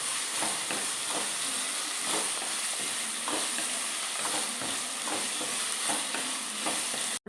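Ginger, garlic and green chilies frying in oil for Kerala-style beef pickle, a dense hissing sizzle throughout with regular scraping stirs of a spoon in the pan.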